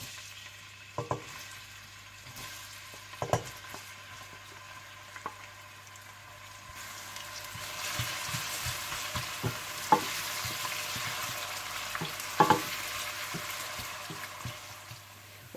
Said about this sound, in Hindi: और इसमें आप प्याज डालकर हल्के से गोल्डन ब्राउन कर लीजिए।